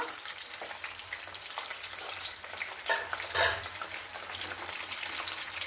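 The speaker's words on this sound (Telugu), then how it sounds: "నూనె కాగిపోయిందండి ఇలా వంకాయలు వేసేసుకోవాలి నూనెలో" Eggplant pieces frying in hot oil for masala vankaya bonda, a steady dense sizzle and crackle that holds close and even throughout, with no talking.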